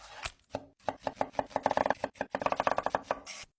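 A knife chops carrots and onions on a board in quick bursts of crisp, close taps that speed up into a rapid rhythm, separated by brief pauses.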